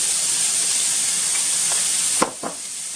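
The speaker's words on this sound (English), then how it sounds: "So this oil has also been warming up, and I am just going to put my onions in there." Onions going into hot oil for a string bean and eggplant stew: an even hiss of heated oil, then a sharp surge of sizzle and a couple of clatters near the end, close by with no talk.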